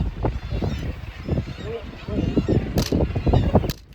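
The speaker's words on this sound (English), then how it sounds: "That's the kittiwake bird for you, announcing its presence across the cliffs." Kittiwakes calling at the Bempton Cliffs seabird colony, a dense, continuous chorus of harsh, nasal cries rising and falling with no pause, loud and close across the whole stretch.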